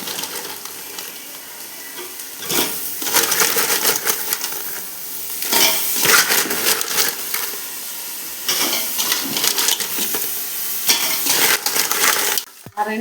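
Cleaned crabs go into masala frying in hot oil for a crab gravy, bursts of loud sizzling and hissing with clatter from the pan, rising and easing several times.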